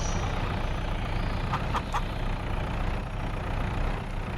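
Chickens in Farming Simulator 25, played on PS5, give a brief burst of clucking under a constant low vehicle engine drone that runs through the whole stretch.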